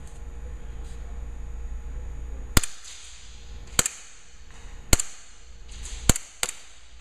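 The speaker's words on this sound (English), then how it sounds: "So we're just going to go ahead and fire this for you so you can see exactly how it works." Airsoft pistol firing BBs, five sharp close snaps spaced irregularly about a second apart over a steady background hiss, each with a brief ringing tail.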